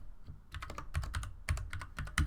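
Code is being typed on a computer keyboard in quick, uneven bursts of close key clicks and a few heavier thumps on larger keys, with no talking.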